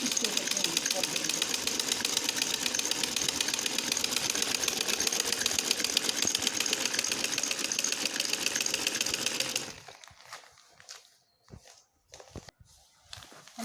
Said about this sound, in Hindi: अब हम इन तीनों भागों को आपस में जोड़ रहे हैं और सिलाई लगा रहे हैं